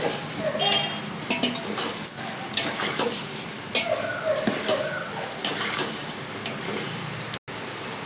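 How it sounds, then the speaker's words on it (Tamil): Vegetables for a large batch of vegetable biryani frying on a gas stove: a loud, continuous sizzle with scraping stirs and clinks of the pan, broken by a brief cut near the end; a voice speaks at times. "நல்லா பொன்னரமாக வறுக்கணும்."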